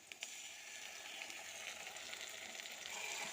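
A paste of ginger, garlic and green chili fries with onions in a pan for chana dal tadka, giving a soft, steady, even sizzle throughout.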